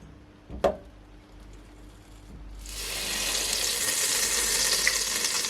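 Olive oil and butter sizzle in a hot pot on the stove, a steady loud frying hiss that starts abruptly after a brief clatter and continues alone.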